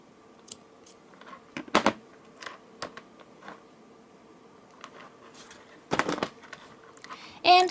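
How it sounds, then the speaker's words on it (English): Scissors snip thread for a handmade necklace, giving a few sharp close clicks and cuts scattered among quiet handling noises, with no voices. "will take the scissors, cut the thread"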